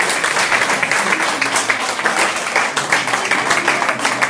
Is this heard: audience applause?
yes